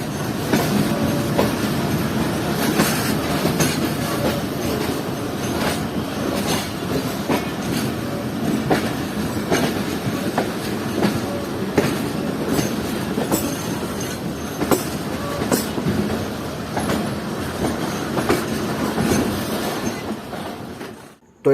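The Rawal Express rolls into Rawalpindi railway station, with loud, continuous rumbling of wheels, rhythmic clacking over rail joints and shrill wheel squeals sounding close throughout.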